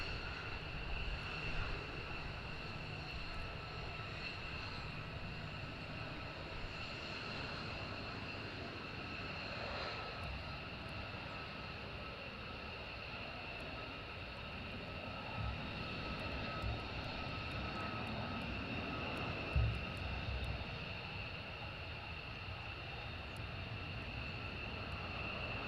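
Military jet coming in to land at RAF Lakenheath, a continuous distant engine drone and whine lasting the whole stretch, fairly faint and steady with a brief thump near the end.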